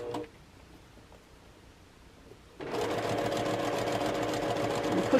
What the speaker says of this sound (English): You can hear the machine going over it